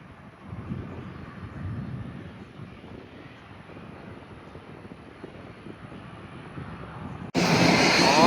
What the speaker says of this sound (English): we got a trade wind Pilatus 12 right here